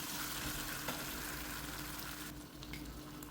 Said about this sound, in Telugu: దీన్ని బాగా ఫ్రై అవుతున్నప్పుడు దీంట్లో ఉన్న ఆయిల్ మనకు ఆనియన్ కూడా బాగా కుక్ చేస్తుంది